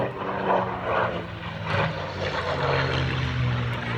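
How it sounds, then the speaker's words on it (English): P-51 Mustang with a Packard Merlin engine flying past at an airshow, a steady loud propeller-engine drone that swells and recedes slightly as the fighter passes overhead. "Listen to the purr of the Merlin Packard engine."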